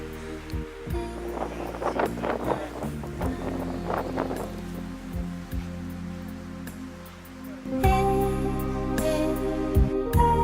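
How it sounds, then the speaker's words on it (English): Strong gusts buffet the microphone high on Angel's Landing in Zion National Park, a rushing, roaring wind that swells and eases in waves, loudest near the end. "it's windy"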